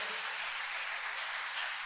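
Church congregation applauding during a sermon, a continuous wash of many hands clapping at once, heard from a distance and fairly faint, with no talk over it.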